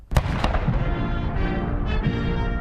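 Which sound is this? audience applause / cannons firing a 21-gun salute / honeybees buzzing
cannons firing a 21-gun salute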